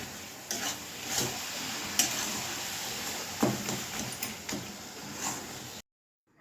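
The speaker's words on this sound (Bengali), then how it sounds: "মা এখন একটু ঘিয়ের মধ্যে এই যে সুজিটা ভেজে নিচ্ছে" Semolina frying and being stirred in ghee in a pan, a steady close sizzle with scraping stirs and a few brief clinks, ending in a short silence.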